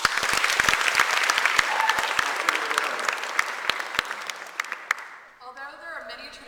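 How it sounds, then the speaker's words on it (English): A large audience in a presentation hall claps steadily and loudly for about five seconds, the applause dense and close before tapering off, then a voice begins speaking over the fading claps. "Give her a round of applause."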